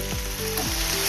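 Green chilies fry in hot oil in a pan, giving a steady close sizzle with small crackles, alone without talk, brief.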